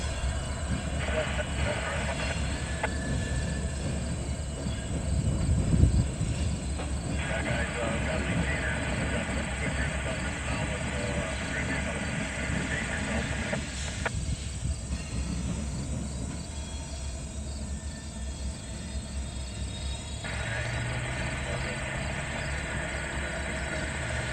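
A Canadian Pacific freight train moves cuts of auto rack cars at a rail yard near a Honda plant, giving a continuous low rumble and rolling clatter with faint squeals, while insects chirp in the background.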